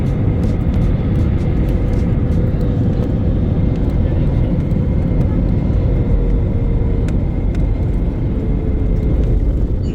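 A passenger airplane lands on runway 09 at Shirdi, giving a loud, steady, broadband roar of engine and rolling noise that holds unbroken throughout, with no clear speech.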